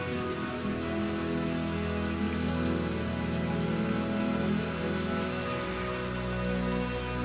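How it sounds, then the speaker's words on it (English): Steady rain pours down in Malaysia, a dense, even hiss of drops hitting surfaces, continuous and fairly close with no voices. "with the rain set in, all I really wanted was my hotel"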